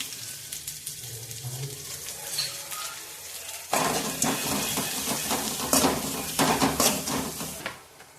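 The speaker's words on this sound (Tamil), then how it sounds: "இந்த காய்கறிக்கு தேவையான கொஞ்சம் உப்பு சேர்த்து நல்லா வறுத்துக்கோங்க" Cabbage, carrot and capsicum with garlic being sautéed in a pan, giving a steady close sizzle and frying hiss, with metallic scraping and clinking of a utensil against the pan that grows busier and louder partway through.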